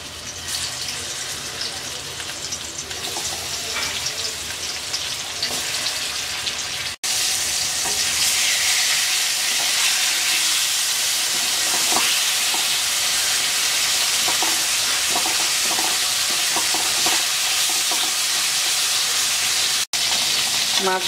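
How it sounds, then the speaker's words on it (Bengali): Pieces of rui fish frying in hot oil in a wok, a loud, continuous sizzle that jumps up sharply partway through and then holds steady, with a voice speaking faintly at the start. "তেলটা গরম হয়ে গেছে, মাছ দিয়ে দিচ্ছি।"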